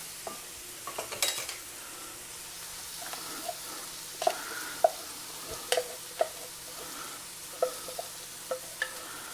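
Bacon, onions and garlic sizzle in a pan with a soft, steady frying crackle, broken by close scrapes and clinks of a utensil stirring.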